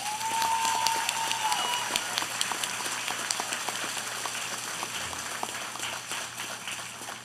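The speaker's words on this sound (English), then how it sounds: "Let's give them a round of applause." Applause at a high school graduation ceremony, a soft, steady wash of many hands clapping at a distance, fairly quiet and even throughout with a brief tonal sound near the start.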